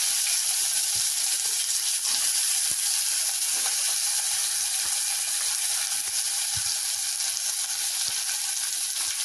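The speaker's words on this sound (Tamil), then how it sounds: "வெங்காயம் நல்லா வதங்கட்டும்." Finely chopped onions fry in oil with a piece of cinnamon and two cloves for chana masala, giving a steady, bright sizzle with faint pops throughout and no talking.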